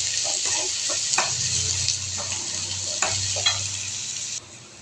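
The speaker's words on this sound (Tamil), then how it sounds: "வெங்காயம் நல்லா வதங்கட்டும்." Onions sautéing in oil give a steady, close sizzle, and a utensil stirs through the pan with light scrapes and clinks throughout. No one speaks.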